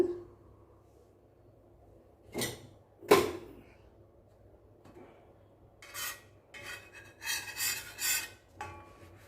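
A knife spreads butter across toasted ragi bread, making intermittent dry scraping and rasping strokes close by, with a few quieter pauses and a denser run of rubs near the end.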